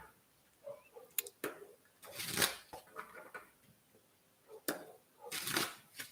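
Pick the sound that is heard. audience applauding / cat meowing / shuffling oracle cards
shuffling oracle cards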